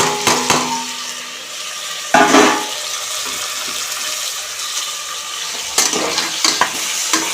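Onion, tomato and curry leaves frying for a tamarind fish curry, a steady close sizzle with a few louder scraping stirs near the start and end, no voices.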